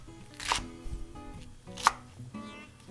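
A knife slices raw carrot thinly on a cutting board, producing two sharp, distinct chops spaced over a second apart, each crisp and close, with quieter board handling in between.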